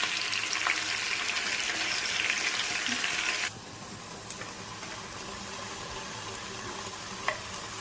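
Tomato, onions and green chillies frying in oil for fish curry, a loud close sizzle that suddenly drops to a quieter, steady crackle with occasional stirring clicks.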